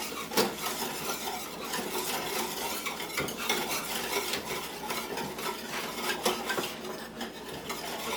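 A whisk scrapes and clinks rhythmically against a pot or bowl while gravy for oven stewed oxtails is mixed, steady and close with no talking.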